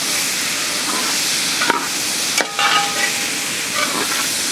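Onions stirred as they sauté in hot oil for a Kerala-style oyster and tapioca gravy, giving a steady close sizzle with a few scraping stirs of the spoon and no voices.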